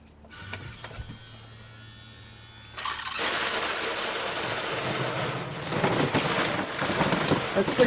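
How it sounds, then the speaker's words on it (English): Water from a Zodi portable shower hose sprays forcefully after a quiet start, a steady loud hiss of spray that begins abruptly and continues to the end. "That's pretty good water pressure."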